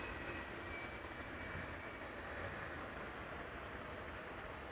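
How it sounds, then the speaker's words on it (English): A Cathay Pacific Boeing 747 taxiing at Amsterdam Schiphol Airport, heard as a faint, steady, distant jet-engine rumble and hiss that holds unchanged throughout, with no voices. "Koenie is informing us that there's a Cathay 747 taxiing"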